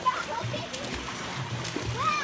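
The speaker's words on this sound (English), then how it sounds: "They're swimming out there." Water splashes and sloshes as people swim outdoors during a Fourth of July gathering, a steady wash of splatter with children's voices and chatter over it.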